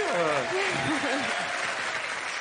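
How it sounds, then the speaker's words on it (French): Studio audience on a French television entertainment show applauding Clara Morgan, a steady wash of clapping with a cheer rising over it and a voice speaking on top. "Vous avez applaudi Clara Morgan quand même."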